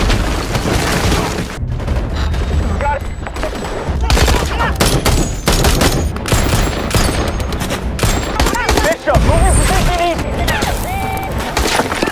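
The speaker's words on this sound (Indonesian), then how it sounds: "Setelah itu, baku tembak pun terjadi." Dense, loud gunfire in a film shootout with terrorists, rapid bursts, booms and impacts crashing continuously, as in an intense action scene.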